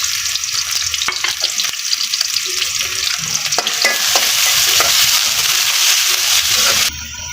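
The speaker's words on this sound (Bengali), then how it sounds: "পেঁয়াজটা একটু ভাজা হয়ে গিয়েছে" Chopped onion and green chilies fry in oil in a pan for a rui fish curry, a steady loud sizzle with repeated scraping stirs of a spatula, close up.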